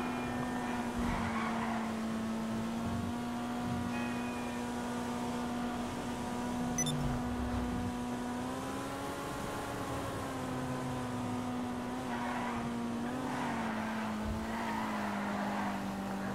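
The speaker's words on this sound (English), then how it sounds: "It's a Diamond Casino podium car." A Diamond Casino podium car driving in GTA V, its engine holding a steady droning tone that rises and falls with throttle changes throughout, loud and continuous with no talking.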